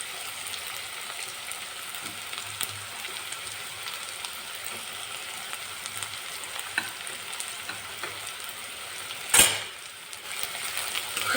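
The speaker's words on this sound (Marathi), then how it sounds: "कांदा परतून चांगला घ्यायचा" Onion and crushed garlic sautéing in a pan for a Maharashtrian mixed-vegetable bhaji, with a continuous close sizzle and faint stirring scrapes, and one brief sharp clatter near the end.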